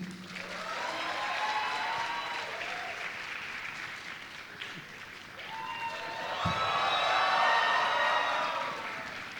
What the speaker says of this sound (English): let's give a thunderous applause to the phenomenal Bamin Irani and Avinash Tiwari.